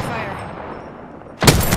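Gunfire in the Apex Legends video game: a fading rumble of earlier shots gives way to a sudden loud, close burst of rapid shots near the end.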